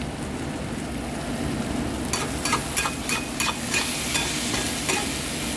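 Boiled raw banana mixed with moong dal and salt is stirred in a pan, a quiet start giving way to a quick series of scraping, wet stirring strokes up close.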